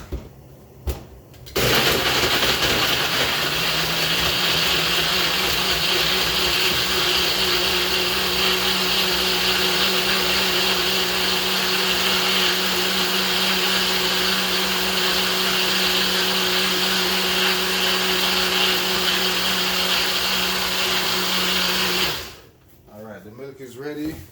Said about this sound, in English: Now we're gonna blend this in our high-powered blender